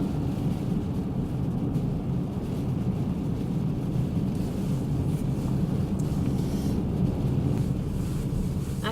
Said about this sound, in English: I can't get over this wind.